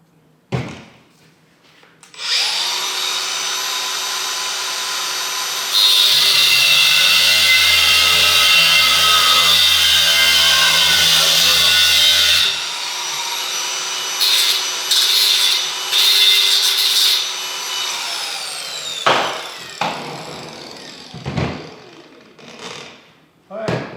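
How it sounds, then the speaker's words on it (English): A cut-off wheel trims a plastic base while building a distillery tower, a steady loud high whine of grinding that grows harsher in the middle and then tapers off, with a few handling knocks at the end. "I'm going to use this cut-off wheel and cut this off a little bit"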